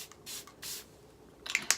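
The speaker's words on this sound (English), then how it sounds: "I'm just gonna spray my face one last time" Makeup setting spray misted onto a face in a few short hissing bursts, with two quieter sprays early on and sharper, louder spritzes near the end.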